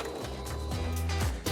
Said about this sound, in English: we're gonna go ahead on our 1-inch seam line, sew our elastic waistband together